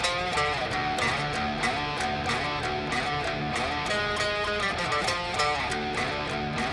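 Electric guitar plays the opening riff of a song in Rocksmith 2014, a dense, sustained distorted riff with steady rhythmic attacks, loud and continuous throughout without any talking.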